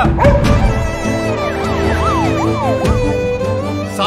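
An ambulance siren wails loudly nearby, its rising and falling tone sweeping repeatedly over traffic rumble, with no talk over it.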